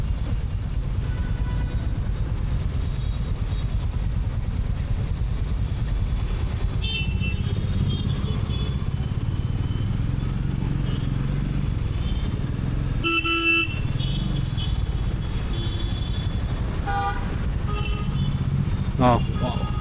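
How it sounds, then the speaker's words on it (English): Busy road traffic flows steadily throughout with engines, motorcycles and a few short car horn toots, while a rider on a Royal Enfield Meteor 350 talks over the constant din. "Unreal traffic, man."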